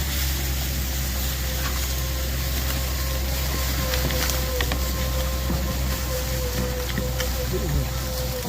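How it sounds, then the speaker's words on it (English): A winch hauling a log up a rock face on a bluff gives a steady mechanical whine with a drifting pitch, running continuously beneath an outdoor rumble and scattered knocks. "Winch it up over that rock face."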